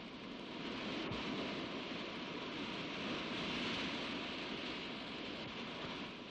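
Steady broadband wash of sea surf rolling onto the shore at Mamallapuram, continuous and fairly loud with a soft swell in the middle, no voices.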